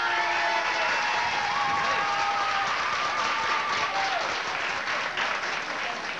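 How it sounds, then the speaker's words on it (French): A studio audience at a 1978 Quebec television variety show applauds loudly and steadily, a thick wash of clapping lasting six seconds with a faint tonal whine running under it. "je vous demande vos applaudissements maintenant pour Elvis Desourdi"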